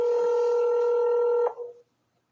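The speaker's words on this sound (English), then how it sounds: "So here goes the phone call." A steady electronic phone tone from a recorded call sounds loud and close for about a second and a half, then cuts off with a brief trailing tail.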